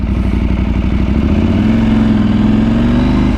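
KTM 790 Adventure R motorcycle engine under way, a loud close throbbing rumble whose pitch rises steadily as it accelerates, with no talk.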